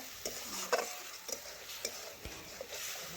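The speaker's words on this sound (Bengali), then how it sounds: "এখন ভালোভাবে লবণ মশলার সাথে মিশিয়ে নিচ্ছি।" Masoor dal is stirred with salt and spices in a pan, with soft scraping strokes and light clicks over a faint sizzle, close and quiet with no voices.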